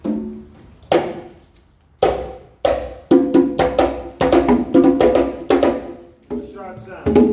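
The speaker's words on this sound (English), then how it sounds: "when you make a slap, it's a sharp sound." Sharp hand drum slap notes, first spaced singly, then struck in a quicker rhythm of crisp, ringing hits, close and clear with no talking.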